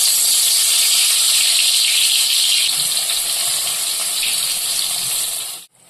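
Spiced pointed gourd pieces hit hot oil in a pan and fry with a loud, steady high hiss and crackle that fades slightly and cuts off near the end.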